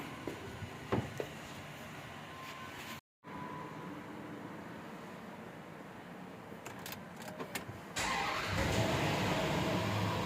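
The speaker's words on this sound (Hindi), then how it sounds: "ये गाड़ी को स्टार्ट कर दिया है।" A Land Rover engine cranks and catches, then idles steadily with a low rumble, its tone rising and growing louder near the end as it keeps running.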